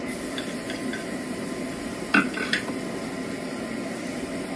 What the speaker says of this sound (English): Now once it sizzles, just add the chopped onion.